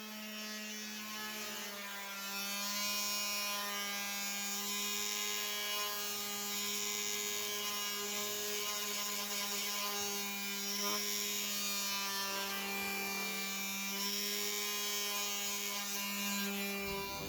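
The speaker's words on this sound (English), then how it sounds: "So I'm going to go ahead and sand the pieces that I'm about to stain." A power sander works steadily over wood pieces for a simple DIY garden bed, giving a continuous, even mechanical whine that holds close and fairly loud throughout with no talking.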